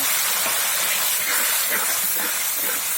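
Spice paste hitting a hot pan while making a giblet dish of chicken liver and gizzard, a steady, loud, hissing sizzle that holds evenly throughout with no voices.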